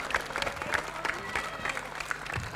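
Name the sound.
squash crowd applauding a drop shot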